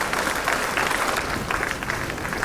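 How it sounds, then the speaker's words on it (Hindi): An audience at a government appointment-letter ceremony applauding, a dense continuous wash of many hands clapping, steady and moderately loud throughout with no speech. "तालियां लगातार हो, जोश से भरेंगी।"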